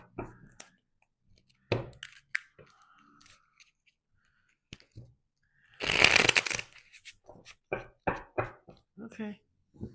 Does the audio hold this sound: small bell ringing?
no